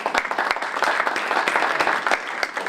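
A crowd at an indoor rally claps together, a loud dense patter of many hands continuing unbroken and close for the whole moment.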